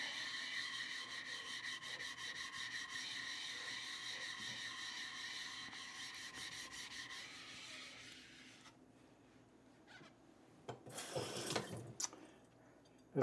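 A worn flattening stone is rubbed back and forth on a Nakayama whetstone, producing a rhythmic, close scraping that is fairly quiet, then stops before a few louder wet scrubs.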